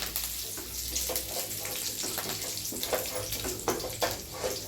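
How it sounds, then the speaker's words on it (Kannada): Curry leaves drop into hot oil for a garlic rice dish, setting off a continuous loud, crackling sizzle with scattered sharper pops, close up and without voices. "ಆಮೇಲೆ ಕರಿಬೇವು ಸೊಪ್ಪು ಹಾಕ್ತೀನಿ ರೀ"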